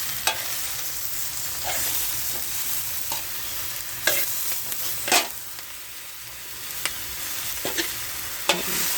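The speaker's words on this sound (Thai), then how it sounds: "ผัดใส่ไข่ค่ะ" Vegetables with egg stir-frying in a pan give a steady sizzle, broken by repeated scraping and tapping strokes of the spatula, with no talk.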